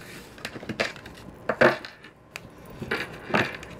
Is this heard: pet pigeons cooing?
no